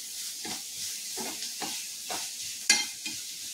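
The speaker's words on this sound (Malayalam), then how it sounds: "സവാള ഇന്ന് വഴറ്റുന്നത്." Sliced onions for egg curry sautéed in a pan, short stirring scrapes and soft sizzles in bursts, with one sharp clink of the utensil near the end.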